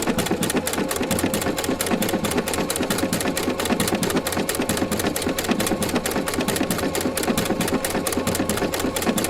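A Husqvarna Viking sewing machine with a circular attachment stitches steadily, its fast needle chatter running continuously and loud with no pauses or talk.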